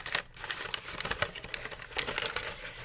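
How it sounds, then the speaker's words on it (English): A sheet of paper is crumpled by hand up close, producing irregular crackling and crinkling bursts with brief pauses over a few seconds. "you're just going to take your paper and you're going to crumple it up"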